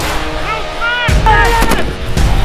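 Gunfire at a shooting range during police hostage-rescue training: a voice speaks first, then heavy, loud, overlapping blasts follow in quick succession, close by.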